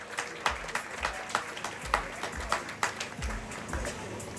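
Audience applause for a champion girls' under-18 team at a club honours ceremony in Martinique, moderate and steady with scattered individual claps, somewhat distant, with no talking over it.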